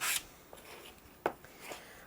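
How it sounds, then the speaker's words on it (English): Dry, rasping strokes of a 180-grit sanding block rubbing over rosewood for a Telecaster build: a few short, quiet scrubs spread across a mostly hushed moment, up close. "I've got 180 grit on this sanding block right here."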